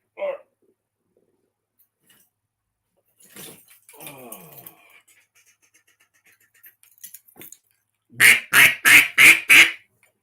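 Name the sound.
duck call imitating a single mallard duck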